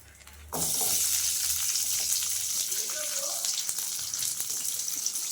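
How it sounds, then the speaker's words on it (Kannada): Onions and spices hit hot oil in a pan with a sudden, loud sizzle that stays steady and close, a brief clatter at the start and a voice talking in the background. "ಅದಕ್ಕೆ ನೋಡಿ ಈ ಇಂಗ್ರೀಡಿಯೆಂಟ್ಸ್ ಎಲ್ಲ ಹಾಕಿ ಆಯಿಲಲ್ಲಿ ಫ್ರೈ ಮಾಡ್ಕೊಬೇಕು"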